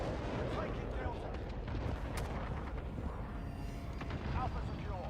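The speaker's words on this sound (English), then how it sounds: "Allied cruise missile away" Cruise missile strike explosions in the Call of Duty video game, a dense, continuous rumble of heavy booms and blasts rolling on throughout, loud and sustained with game voices mixed in.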